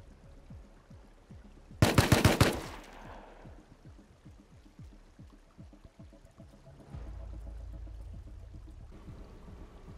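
In the survival game Rust, a short burst of rapid gunfire cracks out near the start, then gives way to quieter, steady background noise and a low rumble.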